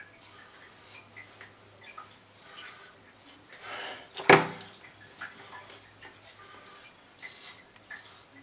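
A razor shaving stubble under the chin makes soft, close scraping strokes in short repeated passes, with one sharper rasp partway through.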